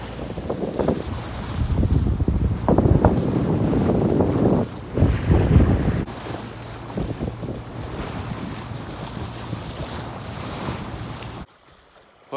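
A Rival 41 sailboat's engine hums steadily with a low drone during sea trials, mixed with strong wind buffeting and water sloshing around the hull, before failing and cutting off near the end.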